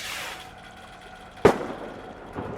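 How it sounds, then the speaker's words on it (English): A single sharp pop of fireworks from a flare in a video game, with a brief faint second crack after it, over a quiet background. "And there's the fireworks."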